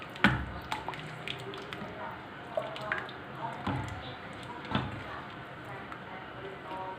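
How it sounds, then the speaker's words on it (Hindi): Milk and cream being stirred together in a cooking pot for a creamy chicken dish, soft wet squishing and dripping sounds, faint and irregular, with low background noise. "इनको अच्छी तरह से मिक्स कर देंगे।"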